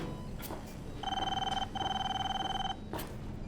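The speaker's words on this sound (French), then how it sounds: "Téléphone, Carole, décroche." An electronic telephone ringtone from a scene in the TV series Pluribus, two steady bursts of electronic trilling over a constant background hiss, with brief faint clicks before and after.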